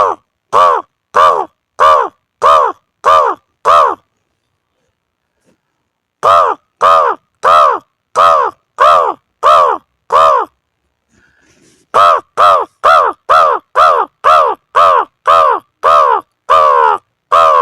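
A voice imitating a crow's caw, loud and close, in three bursts of rapid harsh repeated caws separated by brief silences.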